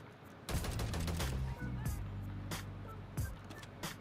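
Gunfire from a weapon in Call of Duty MW3 Zombies, loud and sustained, with shots coming faster as firing continues, in a few dense bursts over about three seconds. Speech is faintly mixed in.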